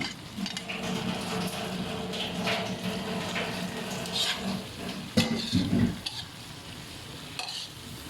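Raw vegetables stir-frying in a pan for egg veg chow mein, a steady close sizzle with repeated scraping stirs and clanks of utensil on metal, one louder clatter near the end.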